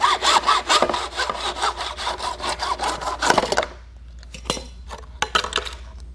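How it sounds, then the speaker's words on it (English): A hacksaw cuts plastic edge restraint with a fast, rhythmic series of close, scratchy back-and-forth strokes for a few seconds. A handful of separate, sharper scrapes and taps follow after a pause. "With a plastic edge restraint, you can simply cut with a hacksaw."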